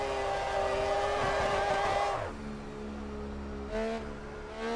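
A drift car's engine wailing at full throttle on the Tsukuba track, a steady high-pitched roar holding for two seconds before dropping to a lower drone, then a brief rise again.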